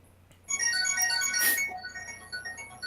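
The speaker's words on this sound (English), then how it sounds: "Whose phone is that? Like he's making that weird chimey sound." A phone goes off during a tabletop Pathfinder game with a bright, chiming ringtone of layered tones that swells for about two seconds and then fades, loud and close with no talk over it.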